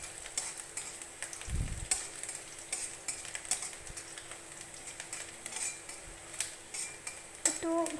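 Pointed gourd and potato pieces fry in a pan with a continuous crackling sizzle, while a utensil scrapes and taps against the metal in frequent stirring strokes, close up.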